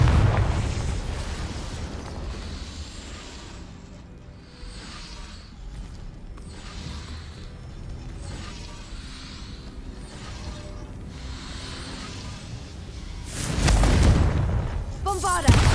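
A Confringo blasting spell explodes in Hogwarts Legacy, a loud booming burst near the end after a long stretch of rumbling, clattering combat noise and scattered pops, with a second blast right at the close.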